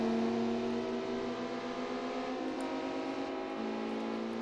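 British Touring Car Championship race cars in a racing video game hold a steady, buzzing engine drone with slight pitch shifts, fairly quiet throughout.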